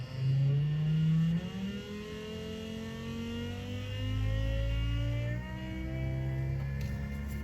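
A turbocharged M104 engine in a Mercedes W203 starts for the first time and revs, with rising and falling engine tones that settle into an uneven idle, close and loud with no talking.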